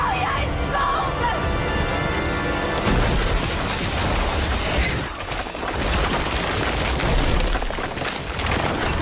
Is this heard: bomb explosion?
yes